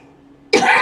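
A single sharp cough bursts out loud and close after a stretch of quiet background hum, during a live-streamed iRacing V8 Supercars race at Mount Panorama, Bathurst.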